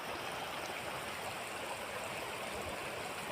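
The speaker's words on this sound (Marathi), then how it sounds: "या मळे नाल्याला फुल पाणी आलेलं आहे" Floodwater rushing through a swollen farm stream makes a constant, dense roar, steady and near, with no voices or breaks.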